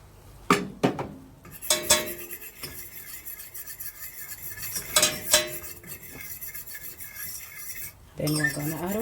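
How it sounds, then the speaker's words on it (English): Whisk scraping and clinking against a pot while milk is worked into a flour roux for mac and cheese, irregular close strokes and taps, a little talk at the end. "we're whisking so that there are no lumps"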